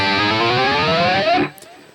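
A distorted electric guitar plays a dense, sustained riff from the outro of a song, with a bending note near the end, then cuts off into near silence.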